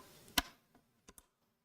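RAM module being pressed into a motherboard slot during a gaming PC build: one sharp, close click, then two faint, quick clicks about a second later, with quiet in between.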